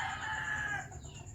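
A chicken crows once in a short, loud call close by, among young chicks being fed.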